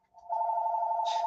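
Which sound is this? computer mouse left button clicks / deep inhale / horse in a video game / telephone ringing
telephone ringing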